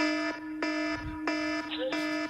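A live-stream buzzer sounds in three long, loud electronic tones separated by short gaps, followed by a brief warbling sound effect.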